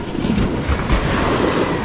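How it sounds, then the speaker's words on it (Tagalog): Strong wind and sea waves out at sea aboard a fishing boat, a brief gusty rush of wind buffeting the microphone over churning water, no speech. "Pag lumaot, malakas ang hangin."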